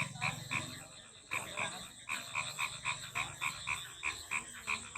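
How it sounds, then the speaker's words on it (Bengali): Frogs croak in steady repeated pulses beside a village wetland at night, a dense chorus with a regular rhythm that carries on throughout with no talking. "শুনুন ব্যাঙ কীরকম আওয়াজ করছে।"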